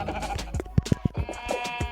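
Sheep bleating in the Minecraft video game: a few short, nasal bleats in quick succession over soft game background noise, fairly close and clear, with no voices.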